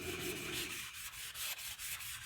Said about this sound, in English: the sanding, actually, I think it's spreading some of the paint around a little bit